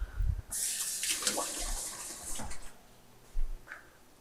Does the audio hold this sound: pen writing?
no